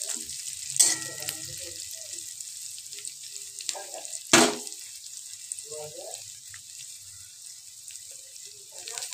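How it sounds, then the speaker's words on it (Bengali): Eggs fry in a pan for egg korma, a soft sizzle with a few sharp stirring clatters, faint and close, with occasional brief speech in between. "একদম ভালোভাবে লাল লাল করে ভেজে নেব"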